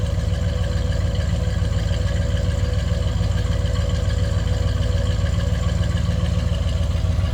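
A 1972 Chevrolet Caprice four-door hardtop idles with a steady, close, low rumble, its even pulsing beat holding throughout without any voices.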